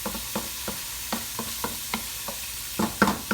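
Tomato paste sauce for Haitian-style stewed turkey wings stirs and sizzles in a pot, with a run of soft, evenly spaced scraping strokes over a low, steady fry; the last strokes land slightly louder. No one talks.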